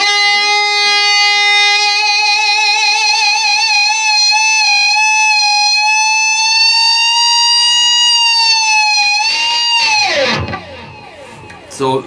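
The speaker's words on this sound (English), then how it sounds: "it's a little slower, the response time to get that cool sounding feedback" Schecter Banshee Elite 6 FR-S electric guitar at the slower-response setting producing loud sustained feedback, a steady shrill tone that gradually swells and bends downward before breaking off near the end.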